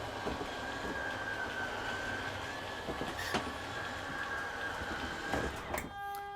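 An RV slideout motor drones steadily as the slide retracts, a grinding whine with rattles and clunks running throughout and changing tone near the end as the slide comes fully in.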